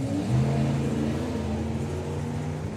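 Lexus six-cylinder 3-litre turbo engine revving steadily and loudly close by, a continuous throaty drone that rises slightly early on and then holds.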